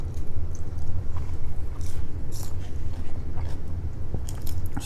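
Someone eats crispy fried salmon with raw onion, green onion and garlic, with close, steady crunching and chewing in a repeated rhythm and no talk.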